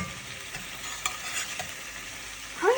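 Food frying in a pan for a Harley Quinn-style breakfast sandwich, a low steady sizzle with faint stirring scrapes, no talking.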